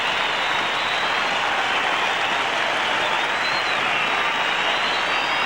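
Test match cricket crowd applauding Greg Chappell reaching his half century after a misfield at backward point, a steady broad wash of distant clapping and crowd noise that holds evenly throughout.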